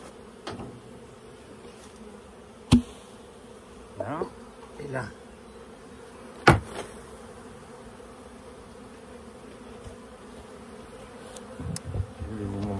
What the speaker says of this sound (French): Et je vais secouer les abeilles là, parce qu'il en reste encore dans la ruchette.